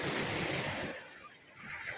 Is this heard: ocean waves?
yes